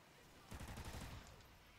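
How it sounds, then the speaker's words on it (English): Burst of rapid gunfire in the video game Ghosts Extinction, a loud rattling volley that starts abruptly and runs for over a second before tapering off. "I'm shooting at him."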